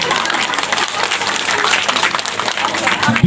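Loud, dense applause from a crowd at a village community gathering in Mandri, Bero, Ranchi, with sustained clapping throughout and voices mixed in underneath.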